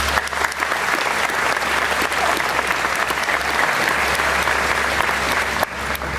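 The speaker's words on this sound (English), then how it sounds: "we owe them a great big round of applause" A large crowd applauds at Epcot's World Showplace during a live podcast event, broad continuous clapping that stays loud and even throughout, with a low hum underneath and a brief dip near the end.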